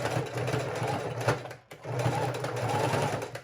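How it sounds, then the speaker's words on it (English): A sewing machine stitches fabric for a handmade book cover, running in a fast steady whir with a brief stop midway before resuming, close and clear with no talking. "I'm going to come away from that edge, and then I can do a zigzag stitch or a straight stitch."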